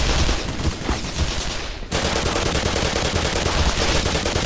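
Continuous loud automatic gunfire in the shooter video game Black Mesa, dense and close, with a brief dip before the firing resumes just as hard.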